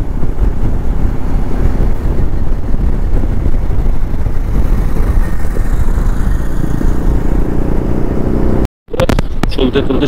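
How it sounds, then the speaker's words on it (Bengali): A motorcycle ridden on a road in the hills of West Bengal, heard from the pillion seat as a steady engine drone mixed with heavy wind buffeting on the microphone, broken by a short dropout near the end. "চালাচ্ছে বাইক"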